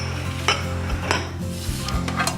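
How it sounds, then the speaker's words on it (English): Metal baking pans clatter and scrape as they are grabbed and moved around a kitchen counter, with several sharp knocks over a constant background hum. "Now I'm going to grab my pans"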